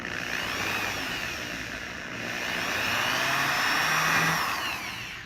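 A power drill bores into a sailboat's hull with a steady, loud, whining mechanical drone that swells and climbs slightly toward the end.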